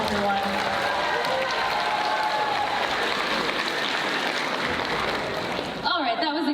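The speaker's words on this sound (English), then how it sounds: "Let's give him a hella big round of applause, everyone." Audience applause at a Lolita and J-fashion show at A-Kon, a dense, steady roar of clapping from a crowd that continues throughout with music and voices mixed in beneath.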